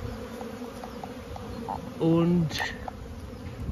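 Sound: honeybees flying around hive

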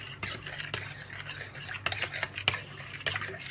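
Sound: whisking a mixture with water in a bowl

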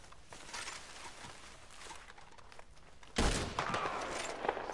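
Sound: gunshots in video game Red Dead Online

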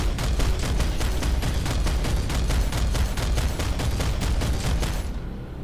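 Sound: infantry gunfire in Planetside 2 video game

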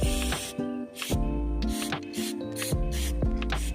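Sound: spray paint sprayed on durian tree trunk

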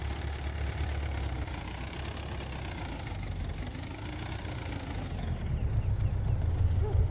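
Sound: Ursus tractor engine idling

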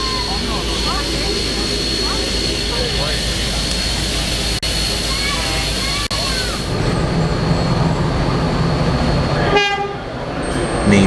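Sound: 35 class locomotive at Hunter Valley Steamfest

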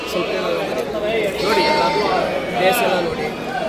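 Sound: Bandur breed ram lamb bleating

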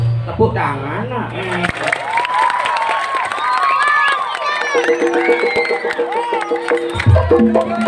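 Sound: audience clapping and cheering

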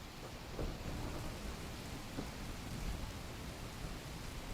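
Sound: heavy rain

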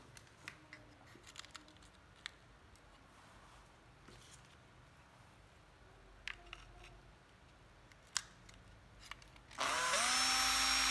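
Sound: Hitachi 12V cordless drill running

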